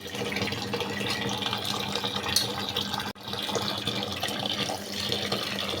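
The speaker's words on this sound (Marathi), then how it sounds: "हे गहू 2-3 पाण्याने स्वच्छ धुवून टाकायचं खराब पाणी निघेपर्यंत" Wheat grains being washed by hand in water, a steady splashing, sloshing wash with running-water texture close by, continuous for several seconds with a brief break midway; no one speaks.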